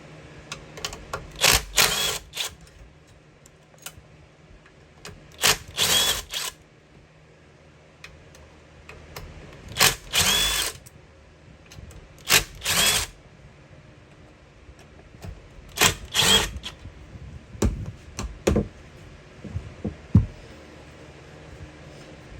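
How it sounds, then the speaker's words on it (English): A power driver spins Allen bolts out of the carburetor covers on a 2-stroke jet ski, giving about six short, close mechanical whirring bursts with quiet gaps between them and no talking. "Those are usually an Allen wrench, so I'll just use a driver to do it."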